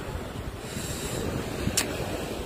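Ocean surf rolling at Melawai Beach in Balikpapan, a steady wash of waves under gusting wind noise on the microphone, fairly close and continuous with no voices.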